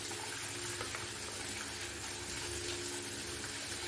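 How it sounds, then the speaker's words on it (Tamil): Water pours steadily into a paneer butter masala mixture, a soft continuous pouring and trickling sound at close range, with no talking. "வேணும்னா இதில் கொஞ்சம் தண்ணி கூட ஊற்றி கலக்கிக்கலாம்"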